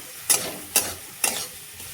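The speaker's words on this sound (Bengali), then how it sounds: "ভাজা ভাজা করে নেব ভালো করে" Spice paste of ginger, onion, garlic, cumin and chili frying in a pan, with three sharp scraping stirs spaced about half a second apart over a low steady sizzle.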